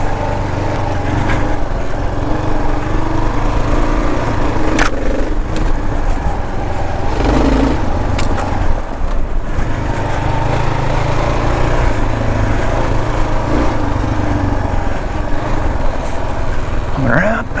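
A Kawasaki KLR 650 dual sport motorcycle rides an off-road ATV trail, its single-cylinder engine thrumming continuously with small throttle swells and rough, bumpy terrain noise throughout.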